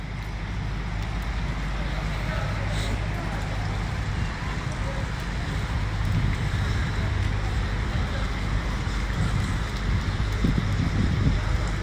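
Heavy rain pours steadily over Erbil city, a dense continuous hiss with low traffic rumble underneath and voices talking throughout.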